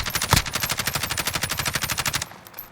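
Rapid automatic gunfire from a Call of Duty Warzone match, a steady fast burst of around twenty-five shots with one sharper blast early on, loud and close, ending abruptly.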